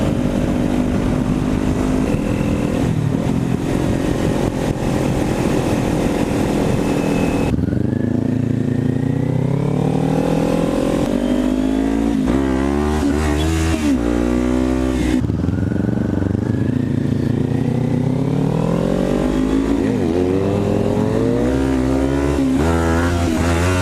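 Kawasaki Ninja 400 motorcycle ridden hard, the engine loud and close, revving up through the gears with rising pitch, dropping on shifts and climbing again.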